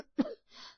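A woman coughs once, a short forceful burst followed by a softer raspy trailing breath, close and alone.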